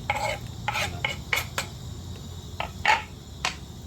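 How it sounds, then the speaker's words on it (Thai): A spoon stirs shallots, kaffir lime leaves, galangal and chili into the filling for a pumpkin-steamed egg dish, making about eight close, brisk scraping and clinking strokes in an uneven rhythm over a steady low hum. "คลุกเคล้าให้เข้ากัน"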